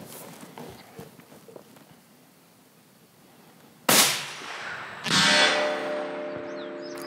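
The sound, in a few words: rifle shots at long range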